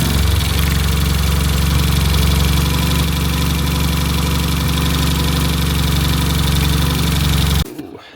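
A Peugeot 106 XSi engine idles roughly while misfiring on only two cylinders, a loud, close, uneven lumpy throb that runs steadily before cutting off abruptly near the end.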